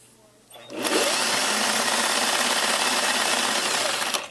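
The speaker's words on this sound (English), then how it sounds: "we're stitching it all at a 1/2 inch" A sewing machine stitches a half-inch seam on a ribbed neck poncho, starting after a brief quiet moment and running steadily and loudly for several seconds with a dense, continuous mechanical whir.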